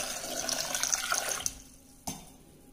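Water pours into a pressure cooker holding sago, a bright splashing gush for about a second and a half that cuts off, followed by a single metallic clunk.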